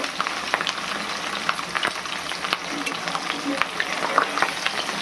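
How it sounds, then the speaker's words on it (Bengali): Rohu fish pieces fry in oil in a wok, giving a steady, dense crackling sizzle with scattered sharp pops close by, continuous throughout without talk. "আমার মাছগুলো বড় আছে বলে আমি দুটো করে ভাজছি।"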